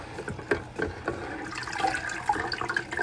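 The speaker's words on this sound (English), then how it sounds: "the water went through that very slow, as you can see" Water trickles and gurgles slowly through clogged foam in a Fluval 406 aquarium canister filter during maintenance after ten months of use, with close, uneven splashing and dripping.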